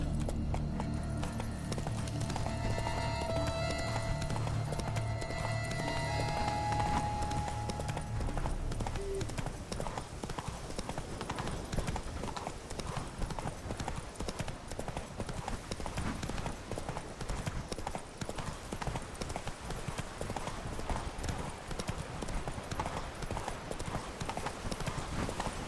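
Roach, the horse in The Witcher 3, galloping, with a steady, close, rhythmic clatter of hoofbeats that runs throughout, while low tonal ambience sits underneath in the opening seconds.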